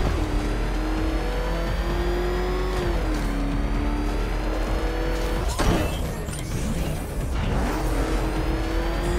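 The Batmobile's engine in a Batman: Arkham Knight race revs loudly and continuously, its pitch climbing, dipping and climbing again, with a sharp burst near the middle and a constant roar underneath.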